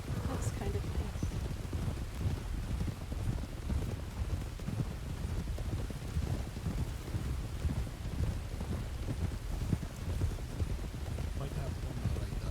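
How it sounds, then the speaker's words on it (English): Steady rain falls continuously on a rough outdoor ride, with a dense, even hiss and patter alongside low rumbling and hoof-like clatter throughout. "this rain actually looks kind of nice"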